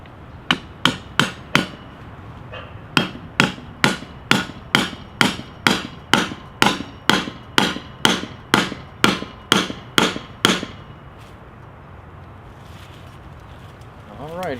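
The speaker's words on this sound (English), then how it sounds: "Gerber Mark II stands up to the vibrations of the actual hammering and process." A Gerber Mark II dagger takes a long series of sharp, evenly spaced hammer blows, about twenty ringing strikes close up, followed by quieter handling noise.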